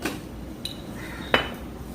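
Mutton and spices being mixed in a pot for a korma, quiet rubbing and stirring broken by two sharp metallic clinks of a utensil against the pot.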